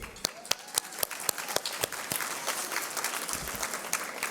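An audience gives a warm round of applause for student musicians from a university music school at a lunchtime anniversary celebration, with sharp individual claps standing out over a steady bed of clapping throughout.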